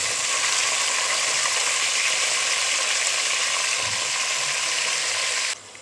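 Half a kilo of eggplant sizzling steadily in a hot pan with mustard and fennel seeds, a broad, even hiss that holds constant and close before cutting off abruptly near the end.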